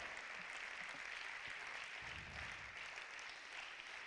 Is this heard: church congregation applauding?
yes